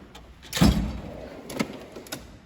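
A metal toolbox drawer rolls open with a loud, close sliding rumble and a clunk as it stops, followed by lighter rattles of pliers and tools shifting inside.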